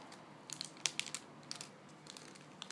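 Small plastic parcel bag from a Hong Kong post shipment of jewelry crinkling as it is unpacked, a quiet close run of sharp rustles and crackles in uneven bursts.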